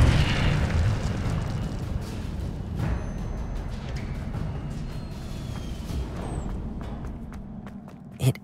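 Incendio fire spell cast in Hogwarts Legacy: a loud, deep whooshing burst of flame at the start that rumbles on and fades, with a few smaller pops and thuds after it.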